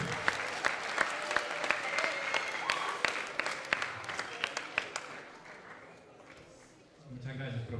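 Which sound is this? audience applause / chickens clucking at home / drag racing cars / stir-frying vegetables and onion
audience applause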